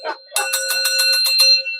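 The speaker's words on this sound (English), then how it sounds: "I gotta bang the bell for real" A bell rung with a single ding and then a fast series of about eight sharp, ringing strikes, loud and close, each with a sustained metallic tone that rings on briefly after the last hit.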